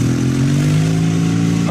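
A motorcycle engine runs close and loud with a steady throbbing hum, pitch rising slightly as it revs, with no talking over it.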